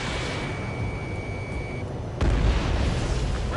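In Ace Combat 7, a ground target blows up during an air combat mission, a sudden low boom that swells over steady engine and wind noise, with a thin tone fading beforehand.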